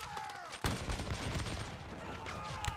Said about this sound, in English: the French artillery unleashes a devastating whiff of grapeshot